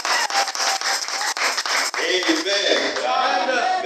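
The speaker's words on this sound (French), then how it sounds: "acclamez pour vous-même" A congregation at a church service claps in quick, irregular bursts of applause, then the clapping blends with voices and cheering as a person speaks over it.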